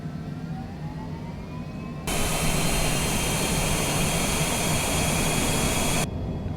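A jet engine roars up to takeoff thrust in Microsoft Flight Simulator during a Category 5 hurricane, a sudden loud steady blast of broadband noise that holds for several seconds and then cuts off abruptly.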